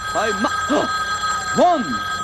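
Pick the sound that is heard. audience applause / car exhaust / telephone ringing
telephone ringing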